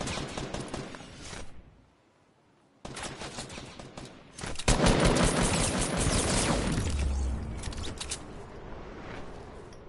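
Rapid bursts of game gunfire from Fortnite Battle Royale crackle loudly, break off into a short lull, then return as a dense, sustained volley of shots with a deep boom partway through.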